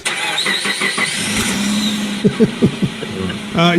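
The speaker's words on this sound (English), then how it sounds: "So it's like a car ignition starting" Car engine starting, with rhythmic cranking bursts before the motor catches near the end, under a steady background hum and talking.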